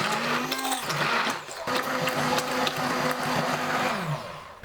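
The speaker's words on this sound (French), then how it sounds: "Je vais réduire la mangue en purée." A blender pureeing mango whirs loudly up close, its motor pitch dropping briefly as it pulses, then spinning on steadily before winding down.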